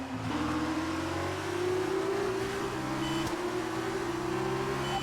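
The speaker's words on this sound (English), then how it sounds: "I'm doing quite a slow lap, and I'm assuming Devon Butler is doing a much faster lap" A Formula 1 race car engine in the F1 2019 video game holds a loud, steady high-pitched whine, its pitch climbing smoothly through a gear with a brief shift, close and continuous with no talk.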